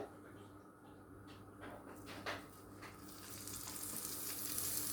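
A turkey paupiette starts roasting in about two tablespoons of olive oil in a pan, with a soft crackle and a brief clatter that builds into a louder, steady sizzle by the end.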